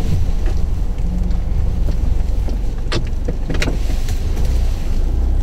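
Isuzu D-Max pickup turning around off-road, a loud steady low engine rumble heard from inside the cab, with knocks and rattles over rough ground.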